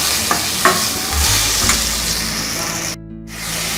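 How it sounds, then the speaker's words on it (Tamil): Small tomatoes fry in a pan for onion vatha kuzhambu, giving a steady close sizzle broken by a few scraping stirs of a spoon and a brief quieter moment near the end. "இந்த தக்காளியும் கொஞ்சம் நல்லா வதங்கட்டும்."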